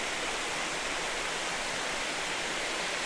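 Holden Clough waterfall pouring steadily, a dense, even hiss of falling water heard close up with no other sounds over it.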